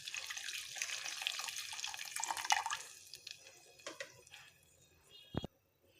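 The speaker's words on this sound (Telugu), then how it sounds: "ఈ చింతపండు రసం వేసేసుకుందాం." Tamarind juice pours into a pan of pepper rasam after curry leaves, a soft splashing liquid trickle that thins into a few faint drips before stopping.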